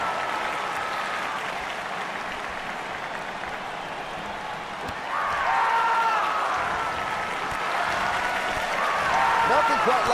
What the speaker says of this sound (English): I'd say this crowd ranks right up there with some of the loudest in recent memory